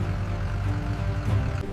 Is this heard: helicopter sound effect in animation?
yes